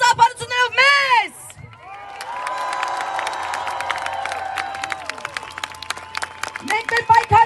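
A crowd at an Armenian rally against US aid to Turkey and Azerbaijan claps and cheers. Loud shouted voices open and close the moment, with sustained cheering and scattered sharp claps between them.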